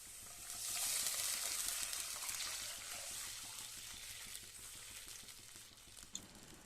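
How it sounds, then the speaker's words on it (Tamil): Chicken stock poured into a pan of sautéing vegetables for oats upma, giving a steady loud sizzle with bubbling and stirring that fades slightly over several seconds, no voices. "நாம எடுத்து வச்சிருக்கிற சிக்கன் தண்ணியை அதுல சேர்த்துக்கலாம்."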